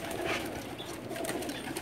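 Jaunsare Teddy pigeons coo softly and continuously in a loft in Jeddah, a low, close, murmuring rumble with no speech.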